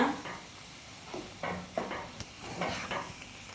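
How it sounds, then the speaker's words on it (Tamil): A thick amla and country-sugar sweet mixture is stirred in a pan, producing soft, intermittent scraping strokes and faint sizzling at low volume, with no voices. "இது நல்லா கிண்டிக்கிறணும்ப்பா"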